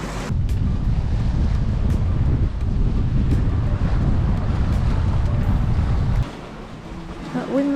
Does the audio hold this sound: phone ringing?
no